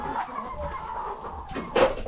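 Chickens in a farm chicken house give off scattered clucks and calls over steady background noise, with a louder burst of activity near the end.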